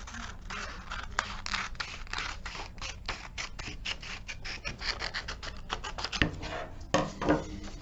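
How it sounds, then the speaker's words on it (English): Repeated crisp snips of scissors cutting a square of origami paper, a quick irregular rhythm of close, dry clicks and rustles, with no talking. "take our pair of scissors and cut along that edge."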